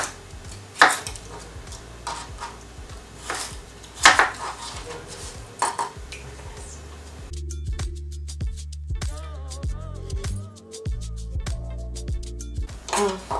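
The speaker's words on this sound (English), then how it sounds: "we'll chop the celery and the carrots into manageable pieces." A knife chops celery and carrots on a board in a kitchen, giving sharp, irregular knocks. A few loud strikes come early, then quicker, softer cuts follow over background music.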